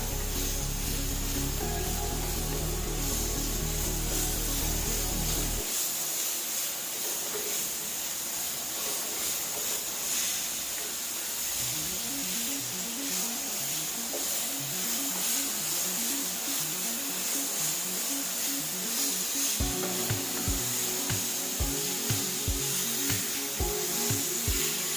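Beetroot sizzles and hisses steadily in a hot pan with onion, green chilli and curry leaves, a continuous loud frying sound with occasional stirring clatter and no talk.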